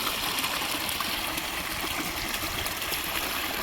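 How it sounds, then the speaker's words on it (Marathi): Small waterfall with water flowing through a narrow gap at Barvi Dam, a steady, close, continuous rush and trickle with no voices over it. "छोटासा वॉटरफॉल आहे. छोटंसं गॅप आहे, त्याच्यातून हे पाणी वाहत आहे आणि काही खूप छान असं झिरझिर आवाजसुद्धा येतो."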